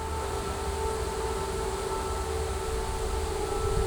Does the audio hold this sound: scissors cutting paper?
no